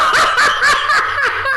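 A voice imitates a mad cow mooing in a rapid string of warbling, yelping moo sounds, about seven short bursts close to the microphone, with a hint of laughter behind.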